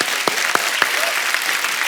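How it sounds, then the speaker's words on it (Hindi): Studio audience applause on a comedy talk show, a loud, even wash of clapping with a few sharper claps standing out. "पहले तो इस बात के लिए तालियां होनी चाहिए"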